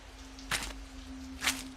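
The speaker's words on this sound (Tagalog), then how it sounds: "Tunog ng tsinelas na hinihila sa sahig." Two slow, scuffing drags of slippers across a floor, soft and fairly close, over a faint steady hum.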